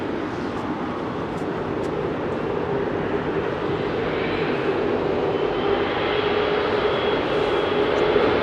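Ex-KLM Boeing 747 Combi converted freighter departing London Heathrow, a broad, loud engine roar that holds steady and swells slightly as the jet climbs away, heard from a distance with no talk.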